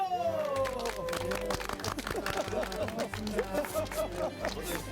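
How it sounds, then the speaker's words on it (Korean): A crowd at a village gathering in Naedong village, Songsan-dong, Gwangsan-gu claps to welcome a guest, with dense, uneven handclaps running throughout under overlapping voices and chatter. "박수!"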